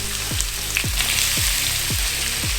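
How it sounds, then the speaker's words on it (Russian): Potatoes fry steadily in a hot pan, a dense crackling hiss, with a few low thumps repeating underneath; nobody speaks. "Ты уверен, что ты умеешь жарить картошку?"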